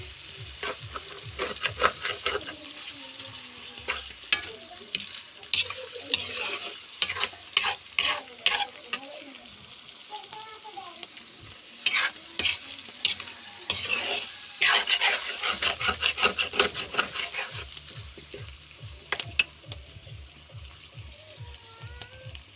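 Shrimp paste (alamang) fries in pork fat while a utensil stirs it, with a steady close sizzle broken by repeated scraping and clanking strokes against the pan in uneven bursts.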